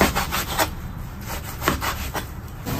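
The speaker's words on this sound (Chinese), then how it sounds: "牛肉给它切一下，给它改刀成小块" Knife cutting fresh beef into small chunks on a cutting board in a home kitchen, a steady series of close, soft chopping and rubbing strokes with no talk.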